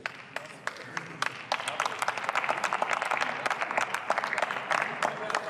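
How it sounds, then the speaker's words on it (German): Applause rings out in the German parliament during a debate on housing rents, dense clapping from many hands filling the chamber, steady and moderately distant, swelling slightly as it goes on. "Applaus"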